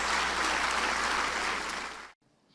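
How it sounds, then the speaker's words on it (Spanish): Congregation applauding at a Spanish-language church service, a dense, steady wash of clapping for about two seconds that then cuts off abruptly into quiet. "Un aplauso al Señor."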